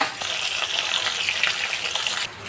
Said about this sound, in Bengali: এতে করে সমস্ত মাছগুলো দিয়ে ভেজে নেব ভালো করে